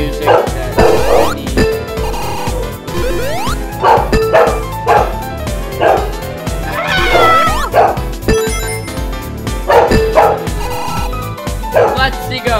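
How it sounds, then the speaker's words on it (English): Several dogs bark, yip and whimper loudly and repeatedly close by, mixed with video game music and a person talking over them. "Sorry about the dogs."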